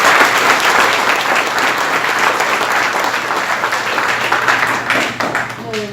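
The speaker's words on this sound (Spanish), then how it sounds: "yo quiero que ustedes pues den un fuerte aplauso" An audience at a money-and-success training seminar breaks into loud, dense applause that carries on steadily, fading slightly at the very end.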